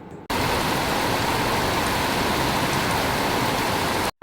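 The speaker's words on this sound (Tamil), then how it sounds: "அந்த அளவுக்கு மழை பயங்கர சத்தம் வேறு மழை பெய்யும் போது." Heavy rain pours down steadily in Kanyakumari, a dense, loud, continuous hiss and patter that fills the scene for about four seconds after a sharp onset, with no voices.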